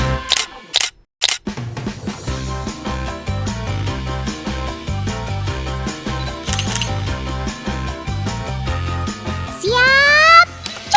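Camera shutter clicks fire during a photo shoot of an albino iguana, a few sharp snaps near the start, then buried under loud, bouncy background music.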